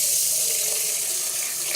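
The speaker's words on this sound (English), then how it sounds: "whack that in there, and then we fill it with water," Running tap water pours steadily into a pot of rice, a close, continuous hiss of filling water.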